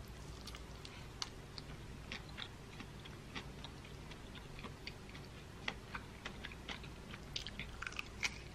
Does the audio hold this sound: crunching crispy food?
yes